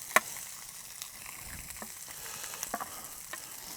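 Egg fried rice with bone marrow sizzling on a Vulcanus grill, a steady close hiss of frying with scattered scraping and stirring taps, one sharper knock near the start.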